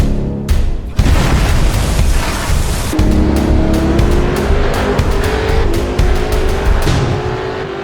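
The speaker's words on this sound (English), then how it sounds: "DV Road Traffic brings the roads of Derail Valley to life, adding semi-intelligent traffic that moves, reacts, and blends naturally into the world" Road traffic cars driving in the train game Derail Valley with a road traffic mod: a loud, steady engine roar with a thump near the start and rising engine tone, with no talking.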